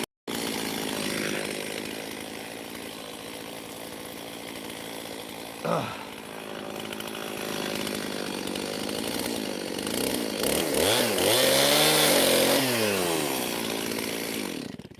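A chainsaw cuts through a cherry log, running loud and steady for the whole stretch, with the engine pitch dipping and rising as the chain bites into the wood near the end.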